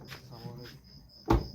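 A car door shuts with a single short, solid thump as someone climbs out, preceded by faint rustling and soft voices in the background.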